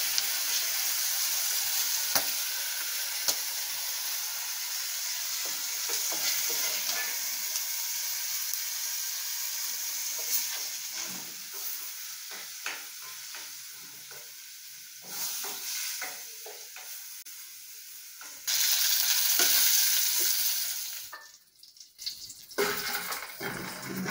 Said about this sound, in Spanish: Igual el comino lo voy a pasar rápido en el aceite.